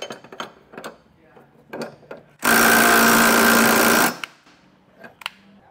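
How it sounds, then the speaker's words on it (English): A wrench and 15/16-inch socket snugging down hitch bolts during a hidden receiver hitch install on a 2023 BMW X4 make a loud, steady mechanical burst lasting about two seconds, set between quieter scattered clicks and handling noises. "we can come back with a 15th, 16th socket and wrench and snug them down"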